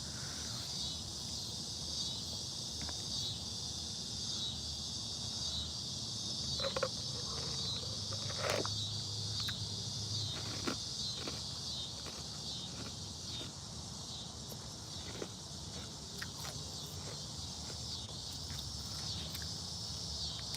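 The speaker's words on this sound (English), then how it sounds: "if you're talking about the sound here, those are cicadas" Cicadas buzz in a dense, continuous high-pitched drone throughout, with scattered clicks and rustles beneath.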